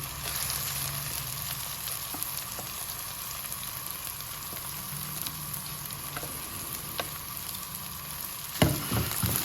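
Onions, garlic and ginger fry in a pan, giving a steady, even sizzle with occasional light clicks of stirring and a brief clatter near the end.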